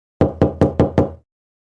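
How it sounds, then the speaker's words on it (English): Five firm, evenly spaced knocks on a wooden door, close and loud, falling silent after about a second. "Suddenly there is a knock at the door."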